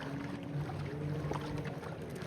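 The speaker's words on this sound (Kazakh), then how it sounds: "Осындай үлкен қайыққа отырдық." A large boat's steady motor drone carries across the lake at Burabay, with wind rushing over the microphone and water washing alongside.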